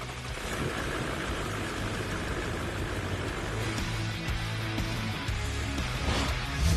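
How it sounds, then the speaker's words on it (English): A Toyota Land Cruiser 200 Series 4.5 V8 has just been restarted after a full carbon clean and settles into idle. It makes a low, steady rumble close by with a slight surge near the end. "Now that the engine is back together, it is primed and started to see if the engine codes have been cleared."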